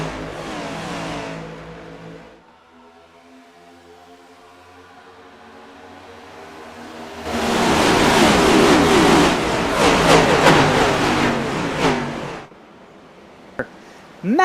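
Stock cars racing at Daytona in the sim game iRacing: loud engine roar fades to a quieter hum with harmonic whine, then a dense, loud surge of multiple cars passing near, ending abruptly with a sharp click.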